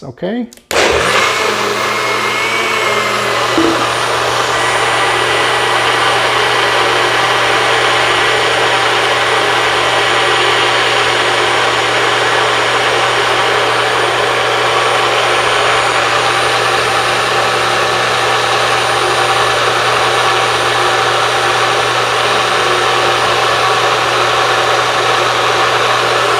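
A NutriBullet blender whirs loudly and steadily as it blends leafy juice, a continuous close motor drone holding for about twenty-five seconds after a brief spoken word at the start.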